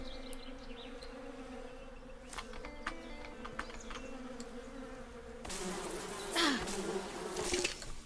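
Bees buzz steadily in the Above Snakes video game, a close droning hum that grows louder and busier partway through, with no talking.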